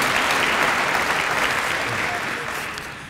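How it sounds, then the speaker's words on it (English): Sustained applause from a graduation ceremony audience of graduates and family members, a dense steady clapping that fills the hall and slowly fades toward the end. "give yourselves a round of applause"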